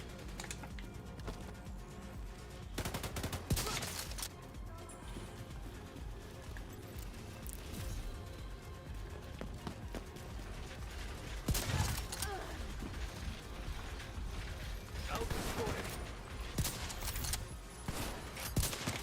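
Bursts of gunfire in The Division 2, loud rapid volleys in several clusters across the stretch, with steady game ambience between them.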